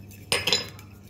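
A utensil stirs plain yogurt in a bowl, giving a brief close clink and scrape of metal against the dish in two quick strokes over a quiet kitchen background.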